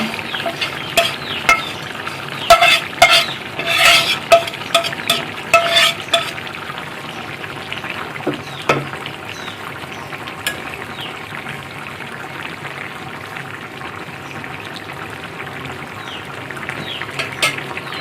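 Fish dropped into a pan of simmering bottle gourd, with a steady frying sizzle, a few clinks and stirring scrapes up front, then settling into continuous bubbling and hissing.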